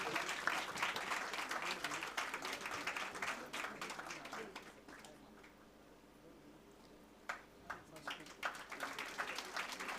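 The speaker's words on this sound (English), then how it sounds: "Let us have a huge round of applause for our first ranker, Aisha Sheikh" Audience applause at a medical institute's induction ceremony for a top-ranked student, a dense sustained wash of clapping that thins out midway, then a few scattered claps return and the crowd swells again.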